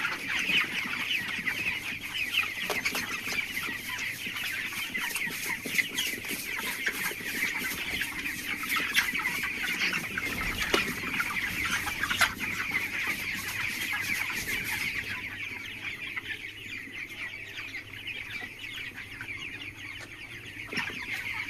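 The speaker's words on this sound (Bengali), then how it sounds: "এখন কিন্তু মুরগিগুলো খাবার খাচ্ছে" Chickens on a poultry farm cluck steadily while eating, a dense overlapping chorus of many birds at moderate distance, with no speech.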